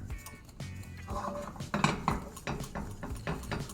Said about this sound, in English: So we'll keep whisking this over really low heat for just about 30 seconds